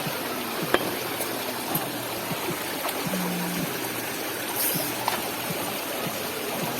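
Water flowing at Binday Dam in San Fabian, Pangasinan, a steady broadband rushing wash with faint scattered clicks, continuous and fairly close.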